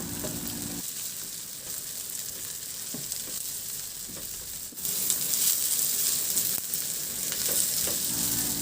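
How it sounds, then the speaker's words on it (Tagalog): Pieces of fried tofu go into a hot pan and sizzle steadily and close, the crackle swelling louder about halfway through and staying dense to the end, with no talking. "Ilagay ko na yung pinirito nating tokwa."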